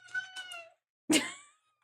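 A house cat lets out a short, wavering meow and then a sharper, louder second cry after a brief pause, close by and alone without talk.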